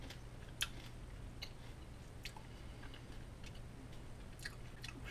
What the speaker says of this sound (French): Je croque.